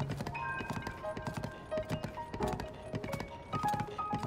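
A horse's hooves clip-clop in Zelda: Tears of the Kingdom, quick regular game-sound steps with light chiming music tones over a soft bed, fairly quiet, with no talking.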